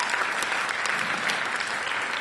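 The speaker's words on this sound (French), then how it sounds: "Est-ce qu'on peut donner une main d'acclamation?" A church congregation applauds in a dense, steady wash of clapping that fills the room and holds at an even level without talking.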